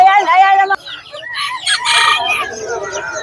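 Roosters crowing and chickens clucking at the Bocaue pet market: a loud, close crow opens, then a burst of sharp clucks and squawks follows, with busy market noise and faint talk underneath.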